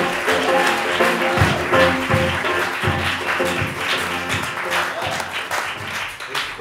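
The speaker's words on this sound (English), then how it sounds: "Please give a big round of applause to Frank Conniff." Comedy club audience applauding a stand-up comedian, full, continuous clapping from a crowd that stays loud for several seconds, with a voice audible beneath it.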